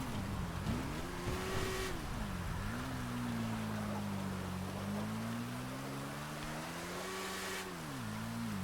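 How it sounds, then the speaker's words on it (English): In a roleplay driving game, a motorbike engine drones and rises and falls in pitch as the rider revs while trying to pop a wheelie, steady and moderately loud under a wash of background noise. "Definitely having a hard time popping a wheelie."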